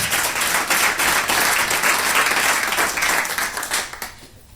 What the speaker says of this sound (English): an extra round of applause for the guys in the control room there